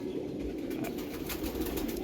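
Black pigeons kept at home cooing softly, low throaty murmurs that come close together over a quiet background.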